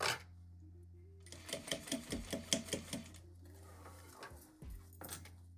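A sewing machine stitches fabric for a zippered pouch, with a clear run of rapid rhythmic needle clacks up close, then quieter handling noises and a couple of soft knocks.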